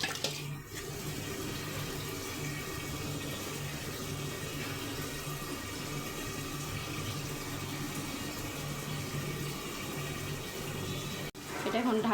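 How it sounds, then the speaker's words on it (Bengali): Water is added to a cooking pot of wax gourd and lentils in spice mix, heard as a steady pouring rush that runs for most of the clip and then stops abruptly near the end. "আমি এটার মধ্যে একটু পানি দিয়ে দিব"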